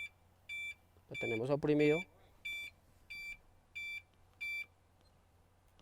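An electric generator plant's alarm emits a series of short, evenly spaced electronic beeps about every two-thirds of a second, with someone speaking briefly over the early beeps in a quiet room.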